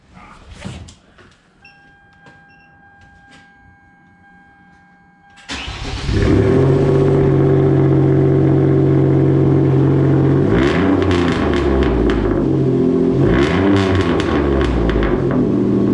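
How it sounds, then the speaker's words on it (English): A car's engine cranks and catches on a cold start after a quiet moment with faint clicks, then settles into a loud, high, steady idle with a couple of brief revs blipping above it. "Oh, let's get a cold start, guys."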